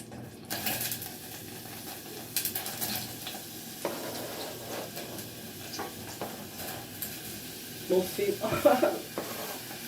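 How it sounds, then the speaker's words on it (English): Onions dropped into a hot pan with oil for hot dog toppings sizzle and crackle steadily, with a louder burst of frying near the end as more pieces land in the pan. "let's add our onions in here"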